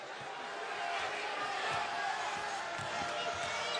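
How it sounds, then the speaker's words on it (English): Vocal crowd noise fills UCF Arena during a UCF vs. Memphis college basketball game, a steady dense murmur with occasional shouts and faint ball bounces throughout. "Good crowd here inside of UCF Arena today. Vocal crowd."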